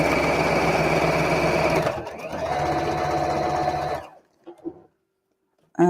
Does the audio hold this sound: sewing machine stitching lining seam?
yes